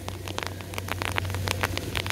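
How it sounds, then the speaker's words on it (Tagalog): Rain falls outdoors during a hauling job, a dense patter of close drops hitting surfaces over a constant low hum, fairly loud and with no talk. "Kaya, inabutan na ng ulan."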